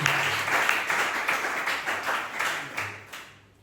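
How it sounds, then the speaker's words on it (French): Church congregation clapping together at a Thursday worship service, a dense, steady round of hand claps with a faint rhythmic pulse that tapers off toward the end. "Applaudissez pour le Seigneur Jésus."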